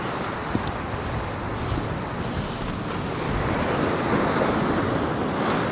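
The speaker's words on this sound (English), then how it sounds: "Look at that wave coming through," Ocean waves rolling in at a fishing spot, a steady broadband wash of surf that swells slightly louder toward the end, mixed with wind rumble on the microphone and no talking.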